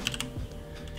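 Computer keyboard keys clatter through a run of quick, close presses for Photoshop shortcuts, several sharp taps up front and lighter clicks trailing off.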